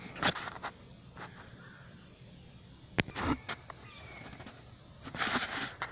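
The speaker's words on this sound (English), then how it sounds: "Every now and then she squawks and then they start chattering, the crows start chattering." Crows caw outdoors while mobbing a nesting hawk, sharp, scattered calls at varying distances, with a louder cluster of caws near the end over faint background rustle.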